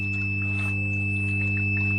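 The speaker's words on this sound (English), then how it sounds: "That's why you can hear that alarm going off." A SpinClean Auto 50 Pro pressure filter sounds its alarm during a cleaning cycle: one steady, high electronic tone holds unbroken for the whole stretch above a constant low mechanical hum.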